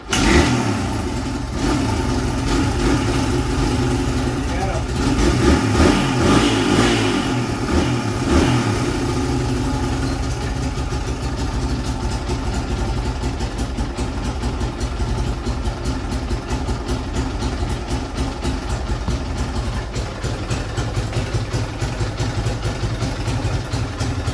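A 1987 Suzuki SP 200 motorcycle, a barn find under repair, starts and revs with a few loud bursts, then settles into a steady mid-pitched idle close by.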